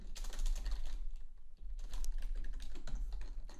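Typing on a computer keyboard while entering code, a steady run of close, quick key clicks with a brief pause midway and no talk.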